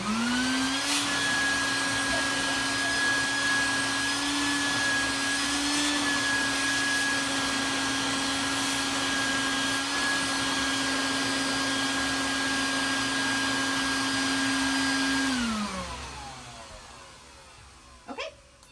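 A vacuum cleaner runs loud and steady with a constant high whine, then winds down and fades out near the end, followed by a faint clunk.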